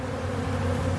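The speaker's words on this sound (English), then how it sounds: "But look at all these bees just hanging out like this." Honey bees hum around an open hive on a warm December day, a steady, close, low droning buzz with no voices over it.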